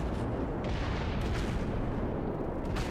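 Battleship secondary guns fire in World of Warships, a continuous rumbling barrage of booms layered closely together, loud and dense with no pauses or speech.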